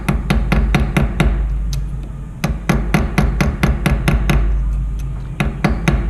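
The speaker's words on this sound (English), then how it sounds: "So sometimes I just go lightly at the very edge. My hammer will be tilted a bit then." A tilted hammer lightly tapping the edge of a jewellery rivet, with quick, crisp metallic strikes in fast irregular bursts and a short pause midway, close and clear.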